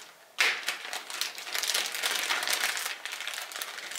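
A reusable plastic bag from a Zalman T7 PC case accessory kit is handled close up, giving a steady run of crisp crinkling and rustling that starts abruptly and continues without pause.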